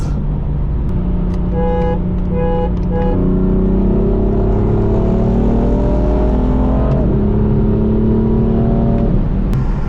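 A turbocharged BMW M4 revs hard close by, its engine tone climbing and falling through several sustained pulls, loud and continuous with no talking.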